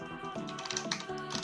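A Corsair mechanical keyboard clacks in quick, uneven bursts of key presses, fairly close and moderately loud, with no talking.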